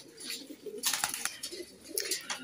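Kalsire pigeons from Rampur coo softly and close by, with a few low murmuring calls and light fluttering rustles, faint and alone.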